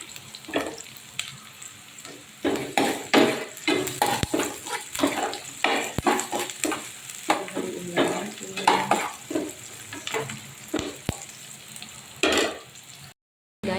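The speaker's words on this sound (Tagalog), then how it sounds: "Tapos luto na yung ating sibuyas, bawang at saka luya." Chopped onion, garlic and ginger sauté in a pan with a soft sizzle. Frequent scraping and clinking strokes of a spatula against the metal keep a busy, uneven rhythm.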